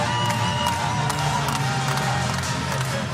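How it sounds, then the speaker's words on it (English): A men's college basketball arena crowd at a Delaware State vs. Virginia Tech game cheers and claps in a loud, sustained roar, with scattered shouts and no clear speech. "This crowd was into it from start to finish."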